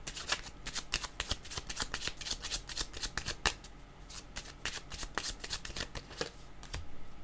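Playing cards being shuffled and drawn, a dense run of quick riffling flicks and snaps that carries on steadily throughout at close range.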